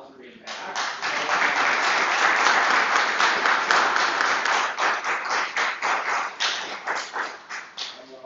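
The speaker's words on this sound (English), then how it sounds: "let's give Father God a round of applause for being back" A church congregation at a Sunday service gives a round of applause, building to a dense burst of clapping before thinning into scattered, uneven claps.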